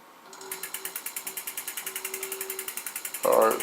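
An electric scooter hub motor spins its wheel slowly under throttle, making a steady pulsing whir of about seven beats per second, close and fairly quiet, ending in a short louder burst.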